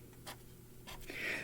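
A pen marks a paper envelope template, making a faint, short scratching of the tip on paper in a quiet room.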